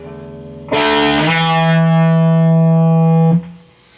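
A single distorted electric guitar chord strummed on the fifth and fourth strings strikes after a short lead-in, then rings out loud and sustained with heavy harmonics before cutting off.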